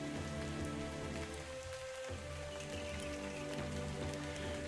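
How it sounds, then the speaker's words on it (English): Steady rain falling on bamboo, a continuous dense patter of drops with a soft low hum beneath, played as an ambient loop from a fantasy sound pad, with no voices. "And rain on bamboo."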